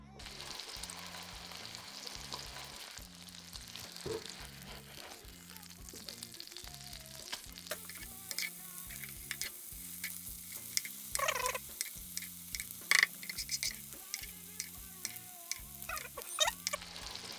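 A fillet of hake frying in a hot pan, a continuous crackling sizzle with sharper pops in the latter half, under a loud rhythmic pulsing hum of background music.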